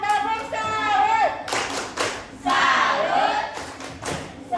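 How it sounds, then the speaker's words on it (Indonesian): A class of students claps hands in applause, in a few loud bursts separated by brief pauses, mixed with voices and a teacher speaking over the clapping. "Tepuk tangan kalau ada"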